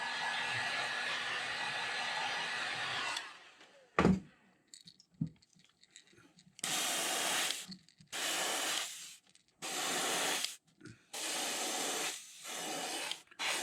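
A heat gun blows in several bursts of a few seconds each, heat-setting thin yellow paint on a custom crawfish-pattern fishing lure, with a few clicks and quiet gaps between the loud airy blasts.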